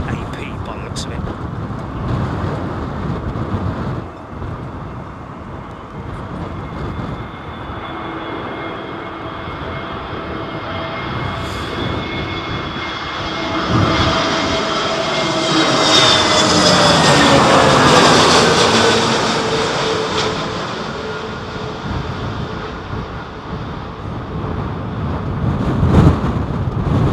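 A TAP airliner landing at London Heathrow in Storm Isha winds, the jet roar rising to a loud peak with a whine that sweeps downward as it passes close, then fading, under gusty wind and people talking.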